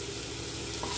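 Mushrooms frying in a pan with salt, green chilli and curry leaves, a steady close sizzle with faint stirring running through the whole second, no voices.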